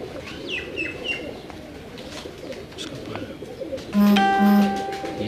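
Salaty pigeons coo in a loft amid scattered chirps from other birds, followed by a louder, close two-part call near the end.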